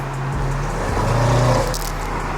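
Deep exhaust drone from a 2021 Audi RS6 with downpipes, full exhaust and a stage 2 tune, a loud close rumble swelling briefly as the engine revs, then settling.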